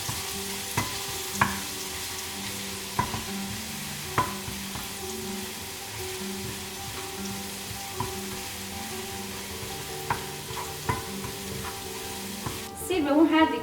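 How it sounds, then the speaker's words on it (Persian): Garlic sautés in a hot pan with a soft, steady sizzle, punctuated by regular light taps and clinks of stirring, and a louder rustle near the end. "سیر رو در حد 1-2 دقیقه تفت بدیم، چون سیر زود میسوزه."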